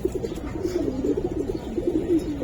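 Pigeons, Giribaz and coloured breeds kept in a loft, coo in a low rolling murmur, several soft throaty calls overlapping close by with no talk.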